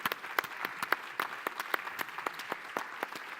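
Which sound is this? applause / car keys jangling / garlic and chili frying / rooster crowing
applause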